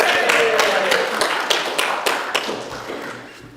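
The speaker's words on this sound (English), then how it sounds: "Yeah, give Madeline applause." A church congregation at a Sunday service claps for Madeline, a burst of hand claps that fades into scattered claps, close and lively, with a voice briefly over the start.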